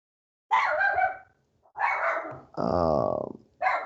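A dog barks and growls close by, letting out four loud, rough bursts with short gaps between them and no talking over it.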